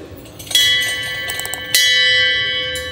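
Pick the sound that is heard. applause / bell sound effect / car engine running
bell sound effect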